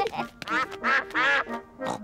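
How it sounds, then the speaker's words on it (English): Cartoon ducks quack on a frozen pond in a children's animated show, several loud nasal calls in quick succession, close and clear with brief gaps between them. "Hello, ducks. We've got some bread for you."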